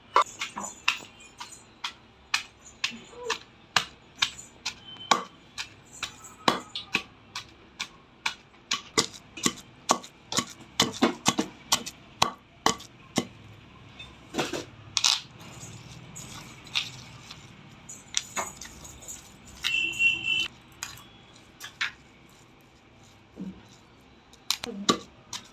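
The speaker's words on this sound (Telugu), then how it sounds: "ఉల్లిపాయ కూడా వేసి నీట్గా దంచేసుకున్నాం." Onion and ajwain leaves pounded in a mortar for a chutney, a long run of sharp, irregular knocking thuds, fairly close, with someone speaking now and then between the strikes.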